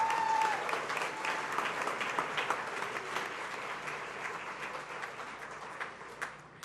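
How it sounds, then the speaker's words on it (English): A dinner crowd at a YMCA volunteer appreciation event applauds steadily, the dense clapping fading gradually over several seconds, with a brief whistle at the start. "Give him a nice round of applause"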